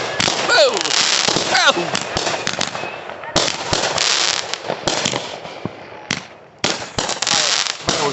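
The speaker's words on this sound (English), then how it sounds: "Fireworks go out every time I get to the job." Fireworks burst at a July 4th family get-together, dense crackling volleys and sharp pops going off close and loud for most of the stretch, with a brief lull near the end, while people shout excited exclamations over them.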